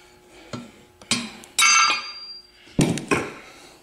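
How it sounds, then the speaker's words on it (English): Metal hammer blows during the teardown of a Quincy QT 7.5 air compressor, five sharp, fairly loud strikes in an irregular rhythm, some with a brief metallic ring, with no talk. "Might need a bigger hammer."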